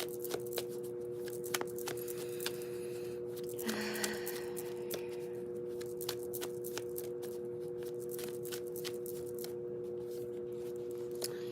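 Tarot cards are shuffled close up in a quiet room, producing a run of soft riffling clicks and card taps in irregular bursts, with a steady low electrical hum underneath.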